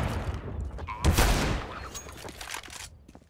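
Several close, loud Desert Eagle pistol shots in a first-person shooter game, the sharpest burst in the middle, over game ambience and a busy competitive match.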